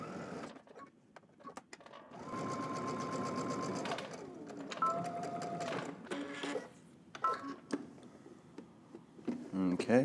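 Sewing machine stitching two rows on a pair of jeans, with bursts of fast steady motor whirring broken by short pauses and ticking handling sounds, and a person talking over parts of it.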